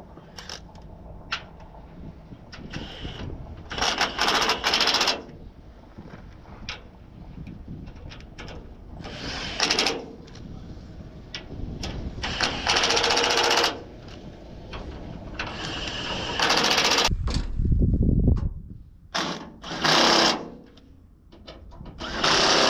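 Bolts are tightened on a CAT 14G grader in repeated bursts of mechanical tool noise separated by quieter gaps, with birds cooing faintly in the background.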